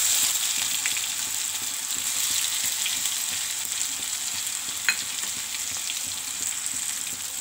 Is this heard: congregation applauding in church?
no